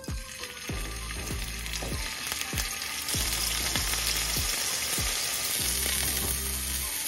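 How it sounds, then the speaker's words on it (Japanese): Scallops searing in a well-heated frying pan, a continuous loud sizzle with repeated soft taps and shuffles as they are placed and moved, close up with no talking. "ホタテを焼いていきます。"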